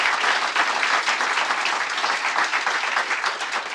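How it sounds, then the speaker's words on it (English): A dense, steady round of applause from the audience at a Startup Canada innovation forum, loud and sustained from start to finish. "Can we all give them a round of applause and thank them?"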